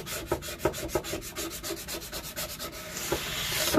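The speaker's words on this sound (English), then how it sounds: "We're going to rub down the length of the board again." Scraper card rubbing down the length of a wooden sign board to set adhesive, a close, rhythmic series of dry scraping strokes repeating about three times a second, without talk.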